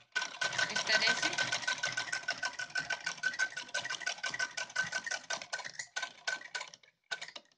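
A sewing machine stitches lace onto a large dhoti, whirring in a fast, steady run of clicking stitches for about six seconds. It then slows into a few separate taps and stops, with no speech over it.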